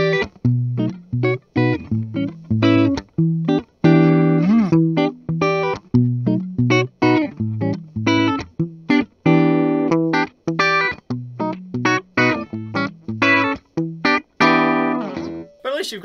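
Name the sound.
Richie Faulkner Flying V electric guitar, active EMGs, heavy distortion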